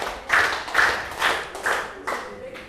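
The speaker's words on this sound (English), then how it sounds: "Let's give him 5 big claps." A school class gives five big claps together in a steady, even rhythm. The claps are loud and close, with no talking in between.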